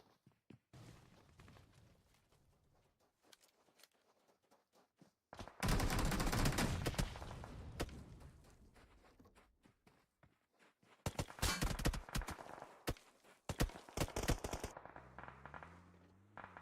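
Bursts of rapid gunfire from a competitive esports video game match, with a loud sustained volley and a later cluster of shots, separated by quieter footsteps and faint game ambience.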